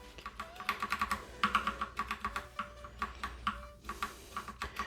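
Typing on copper tactile mechanical keyboard switches, close and fairly quiet, an uneven run of crisp clacky keystrokes with short pauses, no talk.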